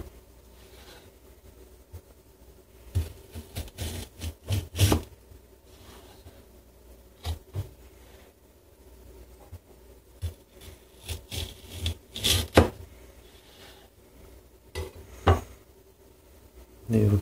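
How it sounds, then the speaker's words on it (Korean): Knife slicing through firm unripe kiwi fruit on a cutting board, a series of sharp crisp cuts and taps in irregular bursts, close and fairly quiet against a hushed room. "아직 숙성되지 않은 상태이기 때문에 자를 때 소리가 나고요"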